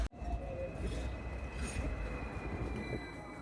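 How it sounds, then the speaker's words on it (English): A Hong Kong tram passes close by with a continuous rolling rumble of wheels on rails and a faint high metallic whine, steady and fairly loud for a few seconds after a sharp start. "Oh, tram going the other way."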